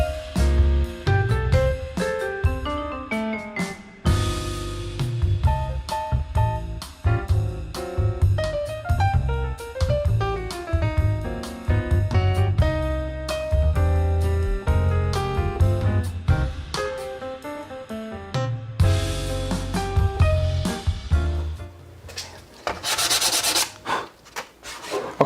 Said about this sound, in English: So we'll just hit these with some sandpaper and move along.